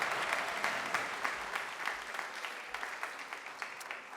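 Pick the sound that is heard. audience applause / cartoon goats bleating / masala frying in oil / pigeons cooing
audience applause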